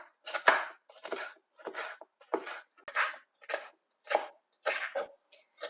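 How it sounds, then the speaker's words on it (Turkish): A knife chops bell peppers steadily on a cutting board, about ten crisp, evenly spaced strokes, close and clear, with no talking. "Şöyle önce jülyen kesiyorum biberlerimi. Sonra da küp küp doğrayacağım."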